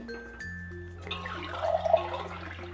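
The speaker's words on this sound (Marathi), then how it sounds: "हा दुसरा तांब्या पाणी घालून घेतले" Water pours and splashes steadily from a small metal pot into rice flour dough, growing fuller and louder over a low, steady hum.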